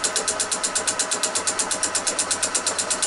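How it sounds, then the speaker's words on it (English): A lathe machines the faces of paddle-steamer paddles, with an interrupted cut producing a fast, regular chatter of evenly spaced hits over a steady motor hum, loud and close. "Machining the faces of the paddles to true them up."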